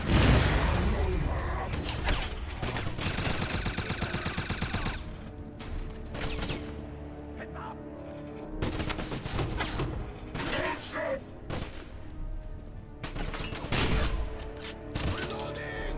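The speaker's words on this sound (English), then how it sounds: "Give me suppressing fire!" Heavy gunfire and sustained automatic bursts fill a Wolfenstein firefight, loud and dense throughout, with mechanical clanks, booms and a voice calling out during the battle.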